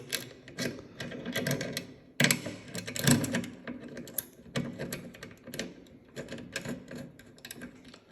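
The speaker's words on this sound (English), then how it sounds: "So what you want to do is tighten this bolt, fit the holes," A tool tightens a bolt on a steering damper being fitted to a Suzuki GSX S1000 motorcycle, making close, quiet, rapid mechanical clicks and ticks in uneven bursts with a few sharper knocks.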